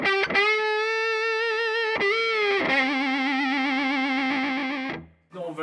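A distorted electric guitar through a combo amp with reverb rings out with sustained notes that waver slightly, repeated a couple of times before cutting off.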